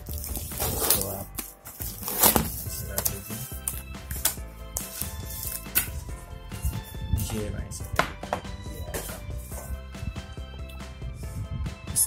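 A Bosch Skil red-and-black T-handle screwdriver set with 28 pieces is being unboxed, giving continuous close rustling, crinkling plastic and cardboard handling with sharp clicks and taps throughout.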